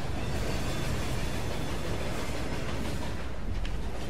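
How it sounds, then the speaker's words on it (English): A train thunders past in the Murdered Soul Suspect video game, a loud, continuous roar of wheels and rail noise that stays dense and close for the whole stretch, with no talking. "Fucking train."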